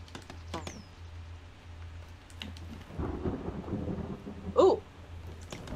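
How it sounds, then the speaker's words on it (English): Thunder rumbles under steady rain in the video game The Forest, with a low roll building midway and a brief louder crack near the end, faint clicks scattered throughout. "And it's raining again."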